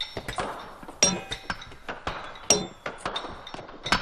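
A hammer strikes a chisel on rock during hand drilling for railroad construction, giving sharp metallic clinks and taps at an uneven rhythm, close and fairly loud, with two especially bright ringing hits.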